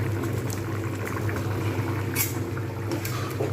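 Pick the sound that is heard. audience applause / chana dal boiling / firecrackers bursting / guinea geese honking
chana dal boiling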